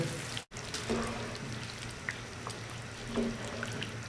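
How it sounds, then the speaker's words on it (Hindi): Half-hour soaked rice goes into a pot of boiling water for kuska, bringing a continuous bubbling, sizzling wash with a few soft splashes and clinks, close by. "अब हम इसमें शामिल कर देंगे चावल जो हमने आधा घंटे के लिए भिगोए हुए थे।"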